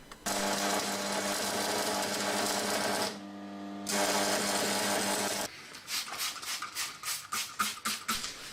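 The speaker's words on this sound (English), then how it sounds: "Now the chain handle's all welded together" A small eBay welder joins links of a chain into an axe handle with a harsh, steady electric buzz. After a brief break and a second long run, it ends in a series of short, pulsing tack bursts, close and loud.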